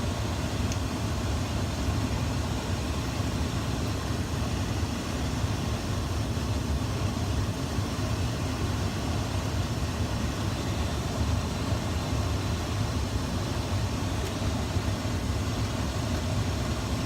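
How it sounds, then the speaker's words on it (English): A 2004 Dodge Ram 2500's HVAC blower fan runs on high, a constant close rushing whoosh of air that holds steady and unchanging throughout, with no voices. "Blower fan's running on high."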